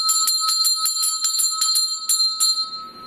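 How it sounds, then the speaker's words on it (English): A hand bell rings repeatedly in a cold, unpowered space during a ghost-hunting session, about ten bright metallic strikes in quick succession that leave a sustained shimmering ring, loud and close, trailing off at the end. "Gonna ring the bell."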